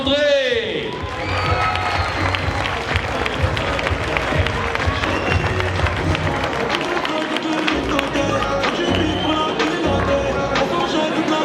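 An arena audience gives a sustained ovation with steady clapping and cheers for the winner at a French bouldering cup final in Chaumont, the applause continuous and fairly loud, with a voice speaking over it.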